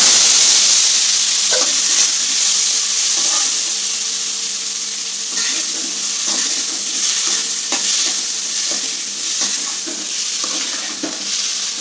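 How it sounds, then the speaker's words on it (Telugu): Tomatoes frying in a pan with a constant loud sizzle, broken by scraping and clicking as they are stirred. No voices. "టమాటాలు కూడా వేగిపోయినాయి"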